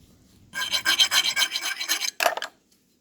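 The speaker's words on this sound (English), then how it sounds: "you can hit it a little bit with a file" Metal file rasping across the cut end of an automotive brake line, a close, loud run of quick back-and-forth strokes followed by a short final stroke.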